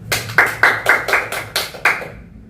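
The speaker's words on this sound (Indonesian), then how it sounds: "Oke, tepuk tangan dulu." A small audience claps in about seven distinct bursts, each a short flurry of hand claps spaced roughly a third of a second apart, near and fairly loud. It fades out at the end.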